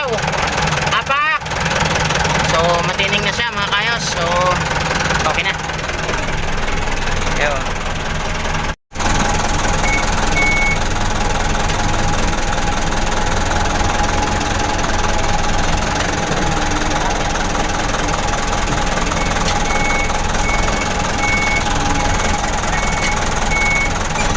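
A car engine runs at a steady idle while the clutch pedal is pressed, just after a new pressure plate, release bearing and pilot bearing were fitted; the loud, continuous hum carries a faint mechanical whir, with voices over it.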